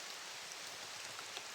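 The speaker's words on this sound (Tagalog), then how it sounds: "May ulan pa rin." Steady rain falls outdoors in a continuous, even hiss of drops pattering on surfaces, close and moderately loud, with no voices over it.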